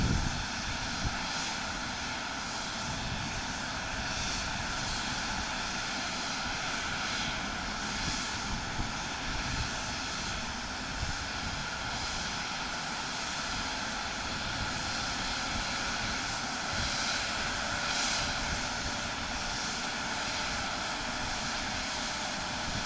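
An ATR turboprop airliner taxiing at Portland International Airport gives a steady, loud, droning engine roar with a propeller hum that holds throughout.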